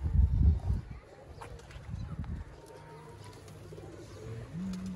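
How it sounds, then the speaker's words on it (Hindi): Teddy bloodline pigeon cooing in a rooftop loft, several low soft coos near at hand, with someone talking briefly and other birds chirping faintly in the background. "ये जी एक चैम्पियन लेवल का दोस्तों कबूतर है, टैडी ब्लड लाइन है।"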